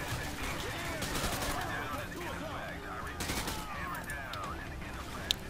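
Gunfire in the video game Call of Duty: Modern Warfare 2, set in the White House: steady bursts of automatic fire and rattling shots throughout, moderately loud, with someone speaking over the shooting and two sharp cracks at the end.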